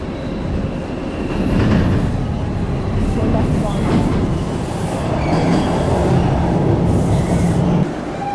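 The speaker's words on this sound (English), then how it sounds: "And now we head on the subway" A Toronto subway train rumbles steadily nearby with rhythmic wheel clatter and faint squeals, loud and continuous throughout.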